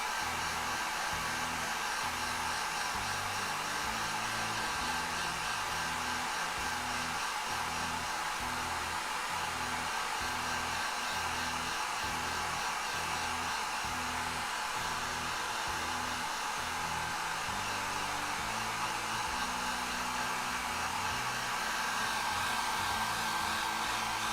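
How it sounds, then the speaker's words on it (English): Hair dryer running continuously at full power, a loud, even broadband roar with a faint steady motor whine, unbroken for over twenty seconds and close by, with no talking. "That's how loud the hairdryer is."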